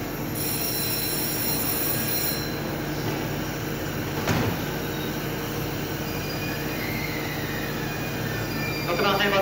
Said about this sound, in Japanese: 列車が動いております。